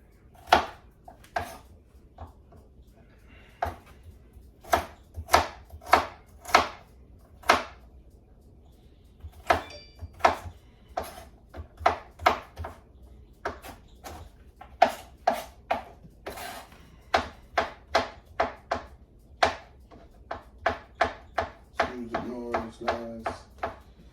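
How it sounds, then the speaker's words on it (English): A knife chops carrots steadily on a cutting board, sharp close thuds in quick irregular bursts, speeding into a rapid run of chops near the end. "just chopping this up"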